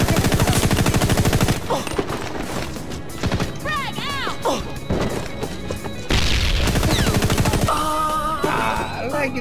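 Rapid gunfire in a PvP match of the video game Hazard Ops, set in a Rio favela map, with bursts of automatic shots and booms layered over game music and effects while a player talks throughout.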